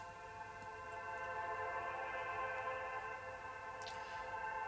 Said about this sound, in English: Kind of spacey, angelic, lots of reverb.